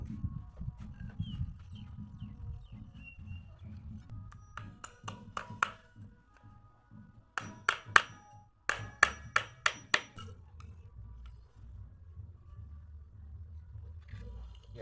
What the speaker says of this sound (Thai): แล้วก็ตอกไม้ก่อนครับ